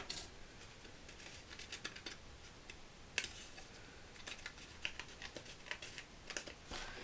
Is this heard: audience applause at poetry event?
no